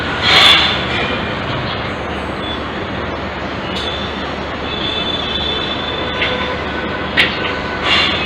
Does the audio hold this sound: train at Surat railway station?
yes